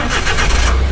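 The 660cc Suzuki K6A three-cylinder engine of a mini van cranks and catches, a close, loud, rhythmic starter churn pulsing over a low engine rumble in a single short burst.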